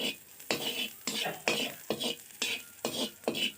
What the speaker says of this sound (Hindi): हम अभी आपको तल कर दिखला रहे हैं, उसी तरह से आपको भी तलनी है।